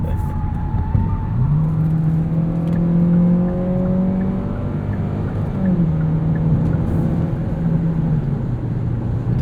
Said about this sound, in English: As you can hear from the tires.